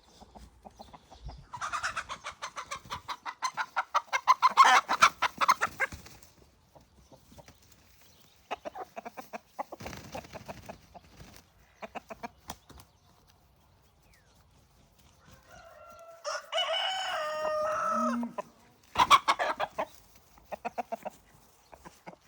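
Chickens cluck and squawk close by on a farm in scattered bursts, with a louder rooster-like call near the end and quiet gaps between.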